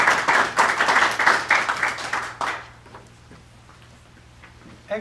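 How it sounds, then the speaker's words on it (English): An audience at a Knights Templar convent and investiture ceremony claps in a round of applause. It sounds as a rhythmic, fairly loud wash of clapping that fades to a quiet room after about two and a half seconds. "Please give a warm round of applause"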